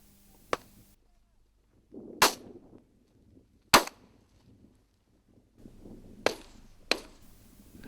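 Shotguns firing at driven grouse on a moorland shoot at Bolton Abbey in the Yorkshire Dales, about six sharp separate reports spread over several seconds, some louder and nearer, with quiet gaps and faint movement between.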